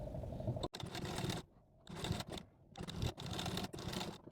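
A sewing machine stitching folded blouse fabric, running in several loud, close whirring bursts with brief pauses between them as the hem is sewn.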